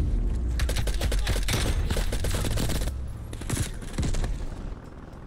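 Sustained automatic fire from a sentry gun in Call of Duty Black Ops Cold War, a loud rapid burst of shots with booming low end that pauses briefly and then resumes in shorter volleys.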